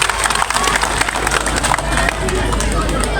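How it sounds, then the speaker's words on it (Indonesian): A rally crowd applauds for Jokowi, dense continuous clapping mixed with cheering and babble that holds loud and steady throughout. "Tepuk tangan buat Jokowi."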